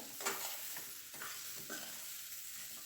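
Peanut powder being stirred into bitter gourd sabzi in a pan: quiet, close scraping strokes of a spoon at intervals over a soft, continuous sizzle.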